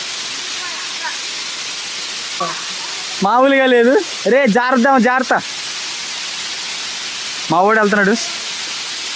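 A large waterfall at Maredumilli in Andhra Pradesh gives off a steady, rushing roar of broadband water noise that fills the whole stretch, while excited voices break in over it in several short bursts.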